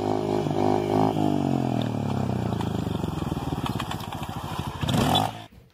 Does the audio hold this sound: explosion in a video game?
no